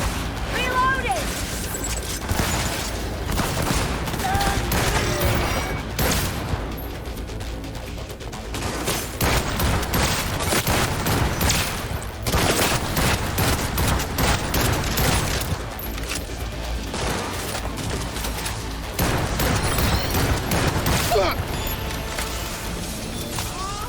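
Sustained gunfire from a firefight in the video game Cyberpunk 2077: Phantom Liberty, loud and continuous with rapid bursts and heavy booms throughout, mixed with game voices calling out.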